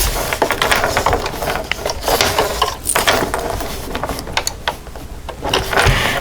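Sewing machine running a long straight stitch, the needle moving up and down as the feed dog pulls fabric through; a steady, close mechanical clatter with busy rhythmic ticking that continues throughout.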